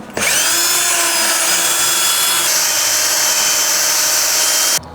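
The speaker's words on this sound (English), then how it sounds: "I'll spend a little bit of time cleaning that up with the drill buffer" A drill fitted with a buffer pad whirs loudly and steadily for several seconds while polishing car paint, a high continuous whine that shifts pitch slightly midway before cutting off abruptly.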